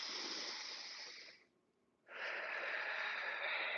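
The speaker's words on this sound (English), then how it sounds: "Big inhale here." A slow, deep inhale and exhale during a seated yoga stretch with arms spread wide in a T: two long, close, airy breaths separated by a short quiet pause.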